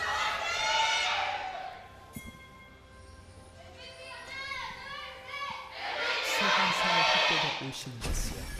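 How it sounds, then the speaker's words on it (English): A League of Legends esports audience at an LCK Summer 2017 match cheers in swelling waves, loud bursts of mixed shouting and whooping that fade and return, with a caster talking in between. "There's a little bit of a delay there on the MVP cheer."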